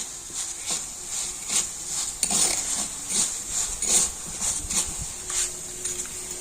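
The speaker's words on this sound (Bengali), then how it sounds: "একটু হালকা লাল লাল হবে সেইভাবে কিন্তু আমি চালটা ভেজে নেব" Gobindobhog rice fries in hot oil with a constant high sizzle, while a utensil scrapes and stirs through it in repeated rhythmic strokes, close up and without speech.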